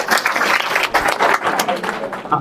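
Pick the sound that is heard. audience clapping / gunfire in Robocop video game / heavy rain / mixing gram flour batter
audience clapping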